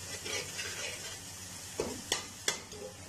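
Spice paste for Kashmiri chicken masala sizzling in hot oil, with a steady quiet fry and three sharp scraping stirs of a spoon against the pan near the end.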